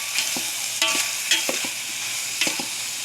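Sponge gourd (patola) and glass noodles being sautéed in a pan, with a steady sizzle and scattered scraping stirs of a utensil against the pan, close and continuous.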